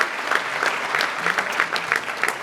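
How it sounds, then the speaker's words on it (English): Audience applause at a senior awards ceremony, a steady dense wash of many hands clapping with no voices over it, sustained evenly from start to finish. "so big claps for all of you"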